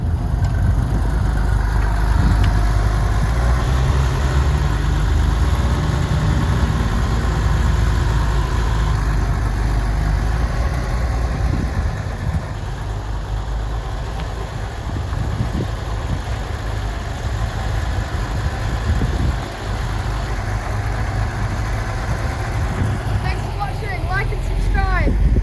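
Engine of a Ford GT40 or Porsche 911 996 GT3 idling, a loud, steady low rumble that continues through the whole stretch with little change, heard close up.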